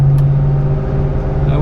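Chevy 350 V8 in a 1972 Chevrolet Monte Carlo, a steady low engine drone heard from inside the car, continuous and fairly loud throughout.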